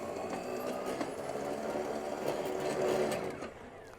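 A Ryobi 40V brushless rear tine tiller motor runs as a steady, high electric whine with a busy mechanical hum, holding level and swelling slightly before easing off.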